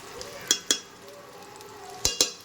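Eggplant and potato being sautéed in a pan sizzle softly, while a spoon strikes the pan in sharp knocks, two near the start and two near the end.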